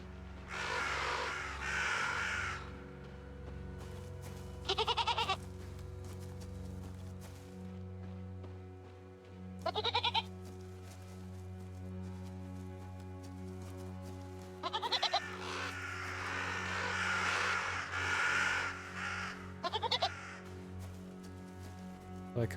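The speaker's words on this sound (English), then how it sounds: "Like how we get to hear the goat" Goats bleat and crows caw in the REKA video game, set in a Slavic autumn landscape, with repeated bursts of bleats and caws spaced every few seconds over a steady ambient music bed.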